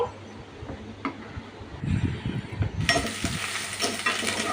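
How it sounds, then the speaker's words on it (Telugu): Tempering sizzles in hot oil in a pan, a steady frying hiss that swells louder and brighter partway through, with faint stirring clinks underneath and no talk. "ఆయిల్ అయితే వేసేసి అందులో తిరుగుమాత పెట్టాను"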